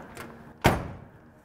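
A passenger door on a 1966 Chevrolet Chevelle swings shut with a single solid, close-up slam that rings out briefly and then fades.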